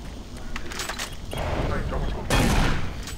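Machine gun fire in Doom 3 BFG Edition, dense bursts of rapid gunshots and booms mixed with game effects, loud and close, with a voice talking over them.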